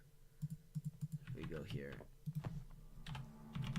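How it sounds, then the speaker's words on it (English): Computer keyboard keys clatter in quick bursts of clicks, close and fairly loud, while a person talks over them partway through during a Minecraft Alpha 1.1 recording session. "what the heck was that typing?"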